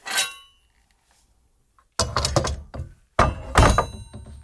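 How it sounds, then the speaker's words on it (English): Foley for a sword being pulled off a character's back in a PlayStation video game: three close bursts of metallic clinks, thunks and rattling, a short one first, then two longer, busier ones after a brief silence. "All right, Blake, can you cue me up for this sword off the back here?"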